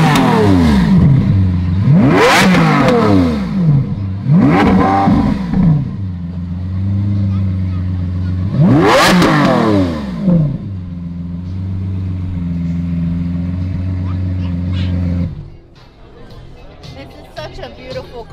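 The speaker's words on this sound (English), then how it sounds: "Do you want to start the car for us?" A Lamborghini engine starts and revs hard, several loud rising and falling revs followed by a steady rumbling idle, with voices talking over it and the engine dropping away near the end.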